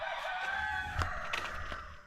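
A rooster crows outdoors on a rural property where a fence is being built, one fairly close call over steady background noise with no talk.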